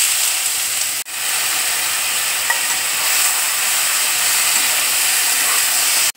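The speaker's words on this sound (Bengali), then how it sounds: "দেখো তেল দিয়েছি, তেল গরম হয়ে গেছে, এবার আমি আলুটা দিয়ে দিচ্ছি।" Potatoes sizzle in hot oil in a pan, a loud steady hiss that runs without a break apart from a short dip near the start, with no voices.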